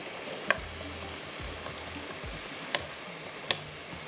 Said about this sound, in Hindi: बस अच्छी तरह से इसको हमने ब्राउन करना है, कलर देना है प्याज को।